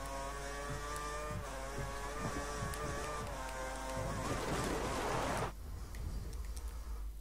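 Formula 1 car engine in the F1 2013 racing game, a steady high revving whine with shifting harmonics that swells toward the middle, then drops abruptly after about five seconds to a lower, thinner tone.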